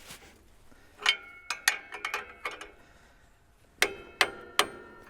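Metal tapping on a stuck part of a Ford tractor, a handful of sharp, close knocks: one near the start, a quick uneven cluster, then three well-spaced blows near the end, with no talk over them.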